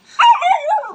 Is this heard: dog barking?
yes